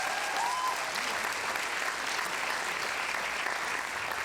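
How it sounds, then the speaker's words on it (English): Steady applause from an audience fills the space, a dense, even patter of clapping hands that continues without pause. "so we need a round of applause for Brian Hanley and the orchestra"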